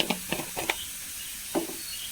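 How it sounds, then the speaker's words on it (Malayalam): Several short, soft scraping clicks of a spoon against a cooking pan, spaced irregularly over a quiet frying background, as a spoonful of crushed chili goes in. "നമുക്കിതിലേക്ക് ഒരു സ്പൂൺ കുത്തുമുളക് ഇട്ട് കൊടുക്കാം"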